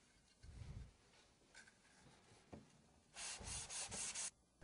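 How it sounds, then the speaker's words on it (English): A Veritas super-hard milled steel card scraper is rubbed along high-friction tape on a wood block, giving short, close, dry scraping strokes, with several quick sanding passes bunched together near the end. "Now hone the sides adjacent to the edge."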